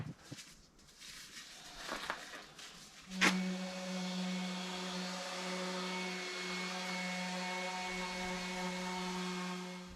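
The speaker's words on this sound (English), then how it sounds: "I'm using this type of sanding paper." After a few soft knocks, an electric sander starts abruptly and runs with a steady, droning whine that holds for the rest of the clip, sanding a sailboat hull out of the water.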